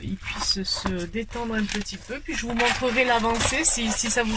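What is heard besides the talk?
No distinct noise like a dog, phone or traffic.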